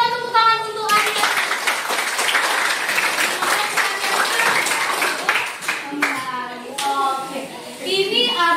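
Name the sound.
applause, clapping hands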